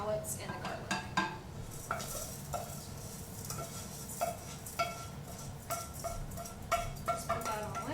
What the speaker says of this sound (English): we're going to add our risotto. into the mixture with the mushrooms and the shallots and the garlic